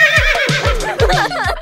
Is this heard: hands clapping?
no